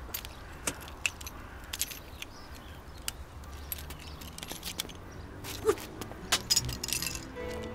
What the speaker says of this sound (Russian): Ключи от машины.